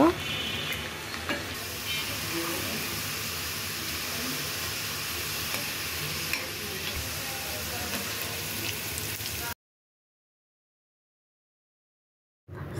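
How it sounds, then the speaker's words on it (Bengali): Shrimp fry in oil in a pan for balachao while turning lightly brown, a steady, even sizzle that runs for about nine seconds and then stops abruptly into silence. "খেয়াল রাখতে হবে যেন খুব বেশি ভাজা না হয়ে যায়, তাহলে কিন্তু তিতো লাগতে পারে।"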